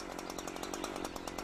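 A chainsaw cuts into a tree trunk during felling, running steadily at high revs with a loud, close, continuous rasping whine and a rapid pulsing chatter, with no voices.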